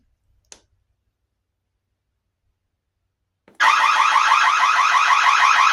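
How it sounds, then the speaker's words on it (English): A loud, continuous electronic panic alarm from a Roku home security system suddenly blares after a brief click and near silence, holding a harsh pulsing siren tone to the end. "Now, to conclude, we will activate the panic button here on the side."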